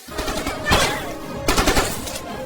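Bursts of gunfire crackle during a military training exercise in a film, two loud clusters of rapid shots about a second apart over a steady noisy background.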